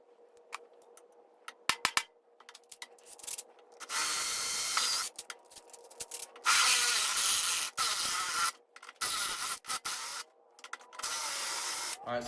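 Loud bursts of a power drill whining as it drills a hole in metal on a Shovelhead springer motorcycle part, in short intermittent runs separated by quiet pauses and a few clicks and taps.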